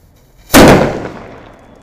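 A homemade bullet set alight in a homemade gun goes off as one sudden loud bang after a short quiet lead-in, followed by a long decaying rumble.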